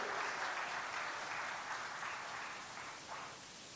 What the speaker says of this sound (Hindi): आइए जोरदार तालियों के द्वारा माननीय मुख्यमंत्री जी का धन्यवाद ज्ञापित करेंगे